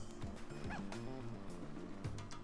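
Poochie, a tiny plush dog in Yoshi's Woolly World, lets out a few quick cartoonish yips and barks over busy game music, brief and fairly faint in the mix.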